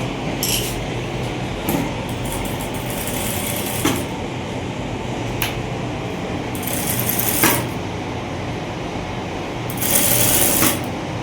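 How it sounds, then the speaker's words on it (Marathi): Sewing machine running while stitching a blouse, a steady mechanical whir with occasional sharper clicks and brief bursts, fairly close and without speech. "हे बघा 5 नंबर शिलाई मारायची."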